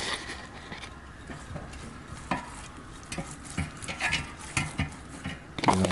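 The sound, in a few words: brushing Old Bay seasoning onto corn on the cob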